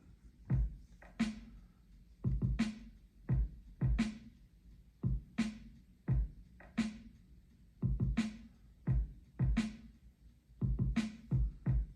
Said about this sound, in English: So I put that together and came up with a beat.